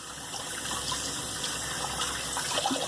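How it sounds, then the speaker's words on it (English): Tap water runs in a steady, continuous hiss and gush while hands are rinsed, with nobody talking. "let me rinse my hands"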